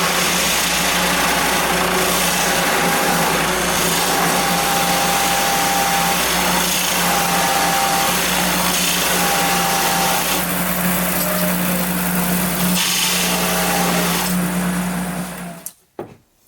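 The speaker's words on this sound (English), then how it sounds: "I have a 2-inch Forstner bit that I'm going to use to create that hole." A 2-inch Forstner bit boring a hole for a router plunger base: a loud, steady high-pitched power-tool whine with a constant hum that runs for about fifteen seconds, with a few shifts in load, then cuts off abruptly.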